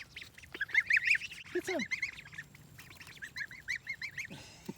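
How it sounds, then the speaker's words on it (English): Ducks quacking and geese honking together, a busy mix of repeated nasal calls and deeper honks at moderate distance, with a person speaking briefly among them. "Those are geese and those are ducks."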